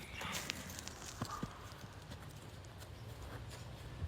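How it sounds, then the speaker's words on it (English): A horse walking during a groundwork training session, with hoof clip-clops near the start and soft steps continuing over a steady outdoor background hum. "get the horse to go and get the horse to stop"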